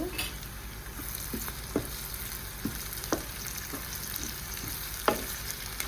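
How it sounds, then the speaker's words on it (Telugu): Ginger garlic paste frying in a pan for a capsicum egg curry gives a steady soft sizzle, with a few faint stirring clicks scattered through it, close but quiet. "ఇవన్నీ మంచిగా ఫ్రై అయ్యేదాకా వేపుకోవాలండి."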